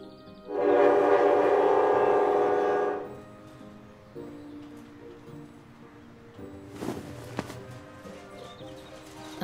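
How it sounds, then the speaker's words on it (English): A train runs in the video game Echoes of Arcadia, with a loud rushing rumble for a few seconds that drops to a quieter rolling background, followed later by a couple of brief sharp clanks. "I can't believe you convinced me to get on this train."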